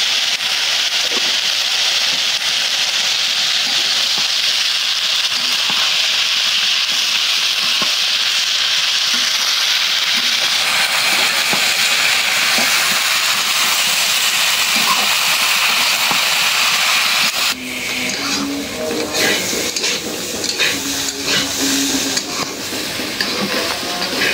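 Bitter gourd and teasel gourd fry in hot oil with onion, giving a loud, steady sizzle close up. Partway through, the hiss thins and scraping, clattering stirring in the pan takes over.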